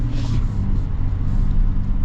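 A steady, low engine rumble runs throughout, the deep idle of a 2026 Chevy Silverado 1500 LT diesel pickup close by, with no voices over it.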